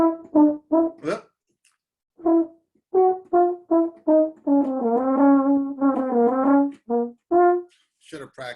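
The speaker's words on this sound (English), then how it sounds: "that's the sound of the French horn, which I've turned into a klezmer instrument" A French horn played klezmer style gives short, separated notes in a bouncy phrase, then a longer run of sustained, ornamented tones with a slight wavering, ending in a few clipped notes, heard clear and close.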